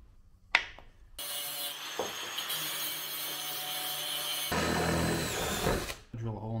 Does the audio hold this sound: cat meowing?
no